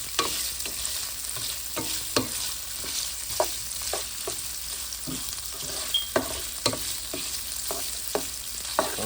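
Sausages fry steadily in a pan, a soft continuous sizzle broken by sharp intermittent clicks and pops of spatters and utensil touches, heard close with no talk.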